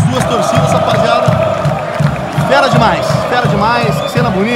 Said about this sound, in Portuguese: duas torcidas aplaudindo, duas festas grandiosas